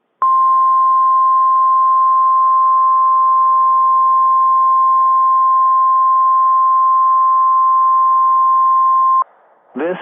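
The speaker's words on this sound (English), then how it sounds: "This is a test of the no-weather radio warning alarm device and the emergency alert system" An Emergency Alert System weather radio test alarm sounds as a single loud, unbroken steady tone lasting about nine seconds, then stops abruptly before a brief burst of other sound.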